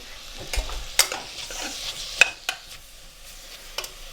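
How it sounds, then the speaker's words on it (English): Korma being stirred in a cooking pan, with a soft sizzle under several scraping strokes and light knocks of the spoon against the pan, close and moderately loud. "We'll give it another stir about first."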